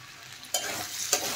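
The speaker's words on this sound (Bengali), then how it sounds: "এখন আরেকটু নেড়ে চেড়ে ভালোভাবে কষিয়ে নেব।" Jackfruit seeds and potatoes with spices are stirred and fried in a pan: a steady sizzle with two sharp, close scraping stirs about half a second apart.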